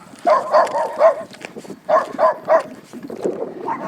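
Village dogs barking in a Carpathian village, in two bursts of three quick barks each followed by a rougher, muffled bark, fairly close and loud with no talk.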